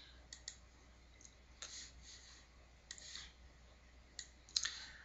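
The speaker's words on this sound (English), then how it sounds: "I will click on the Create Volume" A computer mouse gives several faint, crisp clicks, some in quick pairs, while a TrueCrypt volume is being created, heard alone against quiet background hiss with one sharper click near the end.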